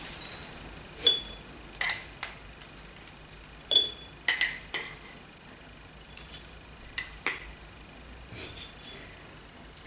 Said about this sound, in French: je mets 4 cuillerées à soupe de flocons d'avoine